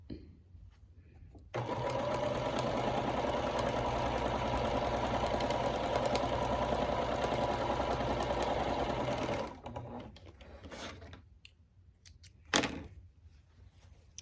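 A sewing machine runs steadily for about eight seconds, stitching quilt squares together with a quarter-inch seam, then stops, leaving quieter handling noises and a sharp click.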